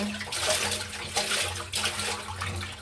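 Water pours into a cooking pot to boil food, a steady splashing, gurgling flow that swells and eases over a few seconds, close and fairly loud with no talk.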